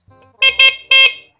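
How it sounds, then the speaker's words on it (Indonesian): Stock factory car horn giving one faint toot followed by two loud honks, close and clear, with no talking. "sekarang kita fokus ke klakson bawaan"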